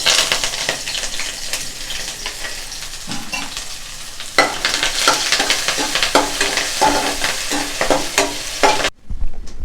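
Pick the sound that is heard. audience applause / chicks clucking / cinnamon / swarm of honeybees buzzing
cinnamon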